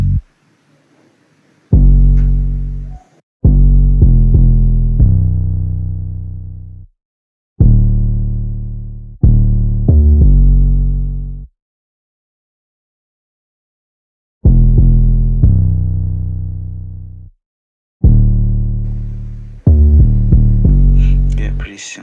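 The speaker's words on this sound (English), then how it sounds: "So the 808 pattern sounds like this." An 808 bass pattern programmed in FL Studio for an R&B beat, deep booming sub-bass notes in a sparse, repeating rhythm with sustained decaying tails and gaps of silence, heard alone and loud.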